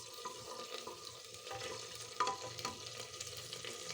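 Bay leaf, cinnamon and cloves sizzle in hot mustard oil while being stirred, a quiet steady frying hiss with soft scrapes and a few small clicks of the spoon, nearby and with no speech.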